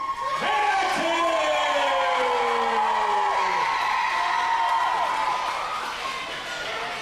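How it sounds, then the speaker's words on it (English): A pro wrestling crowd chants and roars for champion Heath Hatton, a loud, dense arena din with rising calls and cheers sustained across the whole stretch. "it is clear by the chants from this crowd, they are behind Heath Hatton"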